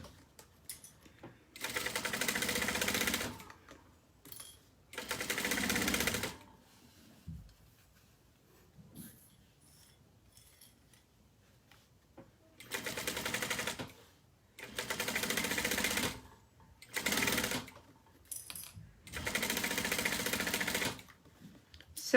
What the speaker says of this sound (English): I am stitching at 1/8 of an inch from the fold.